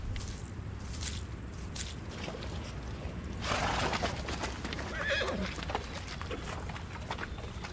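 Horses neigh and whinny while struggling to pull through deep clay mud on a 1918 Meuse battlefield, with a louder whinny burst midway over a steady background of squelching hooves and rumble.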